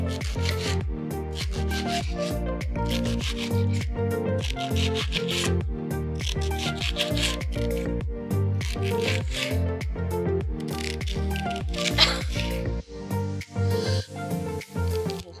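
A knife slices steadily through peeled vegetables in fast, even, rasping strokes that repeat close up for a long stretch, then turn a little more irregular near the end, with no talking.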